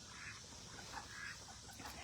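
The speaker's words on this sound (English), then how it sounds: "I'm feeding ducks and I hear ducks" Ducks quacking on a farm during feeding, a few faint, scattered calls over a steady background hiss.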